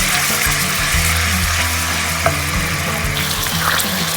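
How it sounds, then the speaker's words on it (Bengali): Garlic paste frying in regular cooking oil, a loud, close, continuous sizzle with a low hum underneath and a single brief knock midway. "এখানে আমি পরিমাণ মতো রান্নার রেগুলার তেল দিয়ে দিলাম আর বাটা রসুন দিয়ে দিলাম।"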